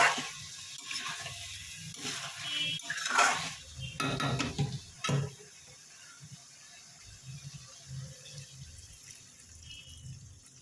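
Mixed vegetable curry of pointed gourd, pumpkin, ridge gourd and lentil dumplings is stirred in a pan with scraping clanks, then water is poured in with a splashing rush that fades to a quiet, steady simmer.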